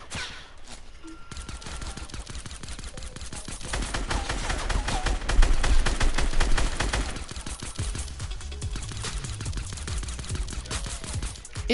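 Rapid bursts of suppressed pistol fire in a video game firefight, many shots in quick succession with dense overlapping clatter throughout, swelling louder in the middle, no talking.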